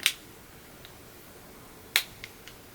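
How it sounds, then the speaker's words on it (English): Two sharp, brief snaps as an Oakley Wiretap replacement lens pops into the grooves of its frame, one crisp click near the start and another about two seconds later with a faint tick after it, close and alone in a quiet room. "if you do hear a pop, don't be alarmed. It's just the lens seating itself to the grooves of the frame"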